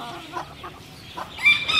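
A Nagasaki rooster clucks in short bursts, with a few brief calls rising to a louder, sharper squawk near the end.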